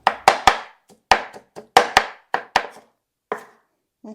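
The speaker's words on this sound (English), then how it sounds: "please do not try to cut roasted garlic because it's very, very sticky" A knife chops roasted garlic on a board in a home kitchen: about a dozen sharp, close taps in quick uneven bursts with short gaps, clear and without talk.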